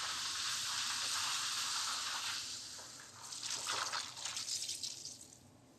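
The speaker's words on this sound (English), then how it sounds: "Now we're going to start adding our liquids. In this case, we have a Sauvignon Blanc wine, again high in acid." Sauvignon Blanc wine is poured into a pan of artichokes, giving a loud steady hiss and sizzle that eases off, then breaks into bubbling, splashing and dripping liquid.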